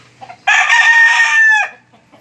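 A single loud, close crow from a fighting rooster, ringing for about a second and trailing off into a brief cluck.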